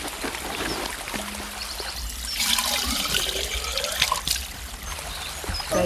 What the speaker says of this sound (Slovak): Ano, tam je voda.